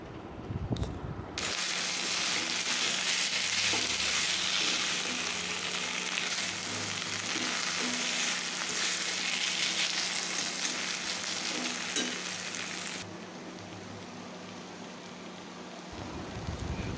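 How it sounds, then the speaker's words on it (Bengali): Banana flower curry simmering in a pan after a splash of cold water, giving a steady broad sizzle with soft stirring throughout, loud and close, easing slightly near the end. "একটুখানি জল দিয়ে নাড়াচাড়া করে নিলাম"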